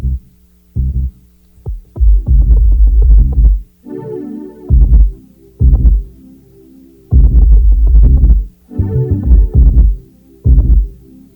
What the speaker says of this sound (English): add just some distortion with this lo-fi plugin, just to see if we can bring out more harmonics in the bass